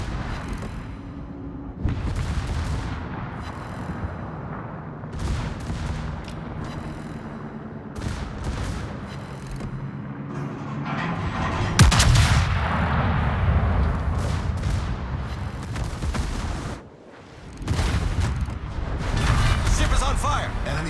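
Naval gunfire from warships in World of Warships, the battleship Ohio among them, booms repeatedly in heavy, rumbling salvos, loud and close, with brief pauses and game voice callouts over the barrage.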